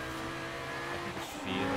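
Forza Horizon 4 game car engine running loud and steady, with a brief dip around a gear change and a throatier surge after, racing sounds filling the whole stretch.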